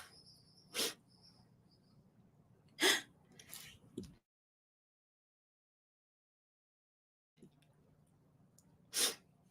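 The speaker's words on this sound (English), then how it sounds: "I got to sneeze again" Several short, sharp sneezes burst out of a quiet outdoor setting where crickets chirp faintly, with a brief gap of silence between them.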